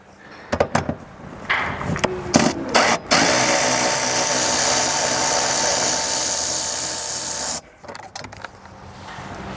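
Power tool with a 13mm socket removing a nut from a seat stud in a Chevy Colorado: a few short clicks and bursts, then a long steady whirring run of about five seconds, loud and close.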